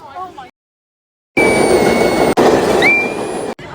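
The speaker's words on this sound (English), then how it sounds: "we're waiting for the train." A train rumbles into a station on the Brighton Beach line, its wheels clattering loudly with a brief squeal after a short silence at the start.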